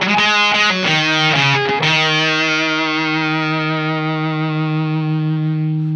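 A guitar runs through a Beetronics Abelha fuzz pedal in nectar mode with the guitar volume lowered: a few quick picked notes, then one sustained fuzzy chord that rings and slowly fades, played alone.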